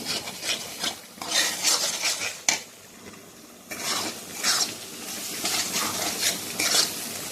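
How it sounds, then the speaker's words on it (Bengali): A spice paste sizzles and fries in a pan for Bengali potol chingri while a spatula stirs and scrapes it in steady rasping strokes, with a brief lull partway through. "নাড়াচাড়া দিয়ে মশলাটা ভালো করে ভেজে নেব"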